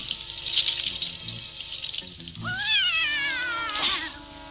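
A cartoon cat meows in rising, wavering cries, preceded by rattling and light tapping noises close by, from a 1983 animated series.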